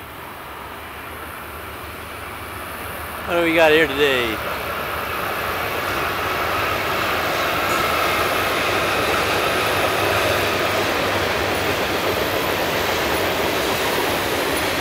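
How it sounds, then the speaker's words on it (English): A train rolling along railroad tracks in Hope, Arkansas, a steady broad rumble building and holding throughout, with a brief squeal near the start and someone speaking briefly over it. "Here comes the train."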